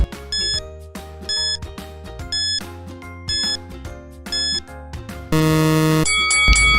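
A countdown timer in a children's English quiz lesson ticks off short groups of bright electronic beeps at a steady pace, then ends in a loud, sustained buzzing alarm.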